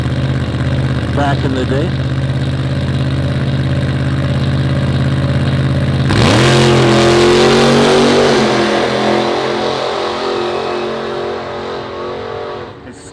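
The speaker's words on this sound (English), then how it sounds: "It's got an old school 354 cubic inch Hemi with a blower on it" Supercharged old-school 354 cubic inch Hemi drag car at a nitro drag racing event, rumbling loudly at close range and then surging into a roaring rev. An announcer talks over the engine.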